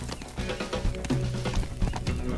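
Horse sounds in the game Teardown: clip-clopping hooves with short snorting, whinny-like cries, close and fairly busy over a couple of seconds.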